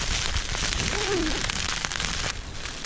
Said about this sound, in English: I wouldn't say it's heavy rain at the moment, but it's not really light rain either